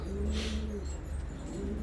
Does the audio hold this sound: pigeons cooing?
yes